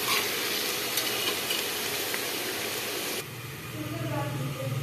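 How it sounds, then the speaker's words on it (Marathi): Garlic paste sizzling and being stirred in a pan after onions, a dense close frying hiss with scraping stir strokes that thins out partway through as the bubbling settles lower, with a voice talking faintly. "आता आपण लसूण छान परतून घ्यायचा"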